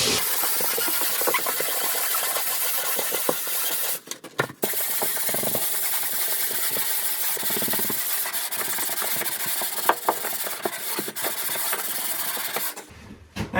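A power sander smooths drywall joint compound in a mobile home restoration. It makes a continuous, close, gritty whirring rasp with brief dips where it lifts off the wall, and no talk over it.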